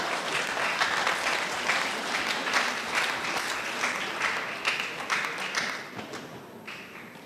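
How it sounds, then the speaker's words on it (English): Steady, moderately loud applause from an audience at an annual delegates meeting, with dense overlapping clapping that continues for several seconds and thins slightly near the end. "Clap for him."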